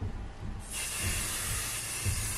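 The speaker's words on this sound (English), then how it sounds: "I'm just going to do a little spray adhesive on the outline of the letter." Spray adhesive aerosol can hissing onto the outline of a chenille yarn embroidery letter, a steady close-up hiss that starts abruptly partway in and continues without pause.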